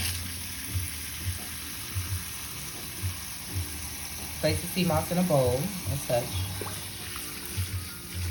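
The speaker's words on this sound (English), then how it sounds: "just turn on your hottest water." Steady rush of hot water running from a tap, continuing throughout, with a voice speaking briefly partway through.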